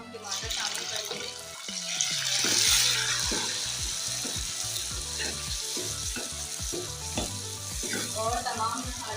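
Onions sizzle and fry in a pan for an egg chickpea curry, a steady close crackle with stirring clatter and some running water.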